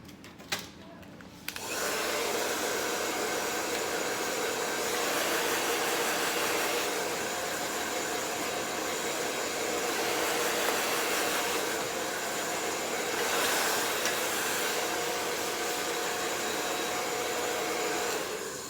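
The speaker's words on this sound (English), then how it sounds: "Let that section down. Blow dry." Hair dryer blow-drying a blunt textured bob haircut, a loud, steady whooshing blow that starts after a short pause and runs continuously with slight shifts in tone as it moves over the hair.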